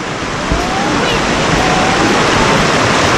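Whitewater rapids rush loudly and continuously around a raft on a river run at Pong Ngaen, a steady broadband roar of churning water with no break.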